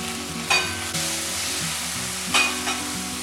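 Peas sizzle and fry in a hot pan for crispy bread roll filling, with a spoon scraping and stirring through them, the steady crackle punctuated by a couple of louder stirring scrapes; no talking.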